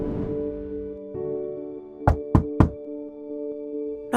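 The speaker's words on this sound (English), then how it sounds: "Knocking on the door, Mr. Rumsfeld opened up" Three sharp knocks rap on a door in quick succession, loud and close, over a sustained tonal music bed, with a further thump at the very end.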